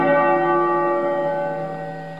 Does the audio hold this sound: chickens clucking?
no